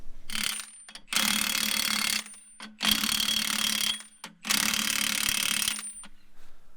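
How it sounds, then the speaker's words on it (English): An impact or ratchet wrench tightens the wheel bolts on a truck's wheel hub, firing in three long loud mechanical bursts with short pauses between, close by and without talk. "Put bolts in and the wedge in and evenly tightening everything."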